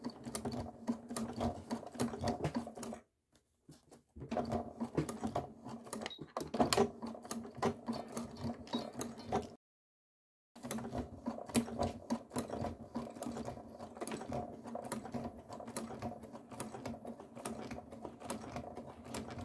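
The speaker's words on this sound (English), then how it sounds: "now we're just going to sew along the edge." A sewing machine stitches along the edge of a fabric lighter holder with a steady, close mechanical whir and rapid needle clatter, broken by two brief pauses where the stitching stops.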